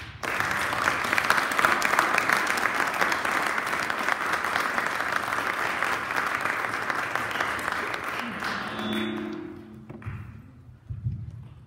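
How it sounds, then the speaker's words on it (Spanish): Sustained audience applause at a humanities and social sciences fair in Toulouse, France, steady and dense for about nine seconds before tapering off, with a few scattered claps and murmurs at the end. "les pido un fuerte aplauso para ambos"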